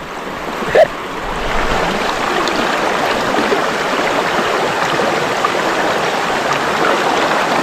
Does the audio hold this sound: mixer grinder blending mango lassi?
no